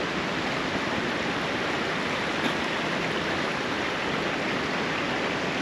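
Creek water rushing under a bridge at a driveway culvert, a loud, constant broadband roar of flowing water with no pauses and no voices.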